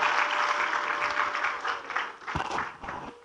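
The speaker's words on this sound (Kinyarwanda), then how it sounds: "Amashyi menshi cyane" Applause at a church wedding ceremony swells from a crowd, dense clapping that stays strong and then gradually thins with a few louder individual claps toward the end.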